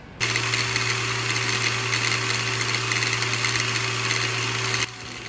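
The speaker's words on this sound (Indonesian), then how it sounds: "kita cek RPM dengan baterai Makita" A Nagawa CG100U cordless angle grinder, fitted with a Makita battery, spins up to high speed and holds a steady, loud, even whine for about five seconds before cutting off.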